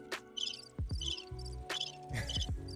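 A cricket chirping sound effect played during a casual Q&A conversation, giving short, bright, repeated high trills in several bursts over low background noise and other sounds.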